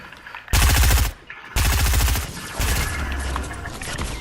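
Loud automatic gunfire rattles in a Fortnite match, three rapid bursts in quick succession, close and harsh, each cutting off abruptly with a slight gap between them.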